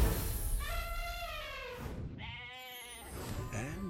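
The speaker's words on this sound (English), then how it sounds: "I'd rather share with a goat." A goat bleats twice in a movie trailer, each a long, wavering, nasal cry, loud and close, separated by a short pause, with a faint third bleat starting at the end.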